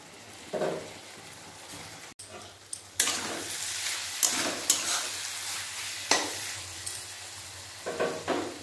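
Spice paste for a snail (gugli) and potato curry sizzles in hot oil, with a spoon stirring and scraping the pan in repeated bursts. The frying hiss runs steadily underneath, and a few sharper scrapes come in clear pulses.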